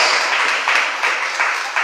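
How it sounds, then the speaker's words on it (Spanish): A church congregation claps together after a sermon on holiness, a brief, dense patter of applause from many hands filling the room. "Y dese un aplauso."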